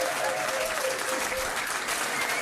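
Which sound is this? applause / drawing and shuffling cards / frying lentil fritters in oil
applause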